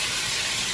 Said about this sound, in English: Now we're gonna put in about a third cup of this white cooking wine.